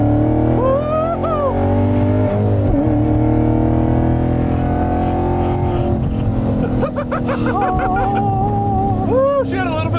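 A 2019 Chevy Camaro SS 1LE accelerates hard from inside the car, its loud engine note climbing and falling through the revs while excited voices call out over the roar.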